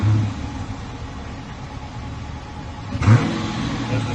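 A stock-exhaust 2015 Dodge Challenger R/T with the 5.7 V8 idles with a quiet, low rumble, then gives one short rev near the end.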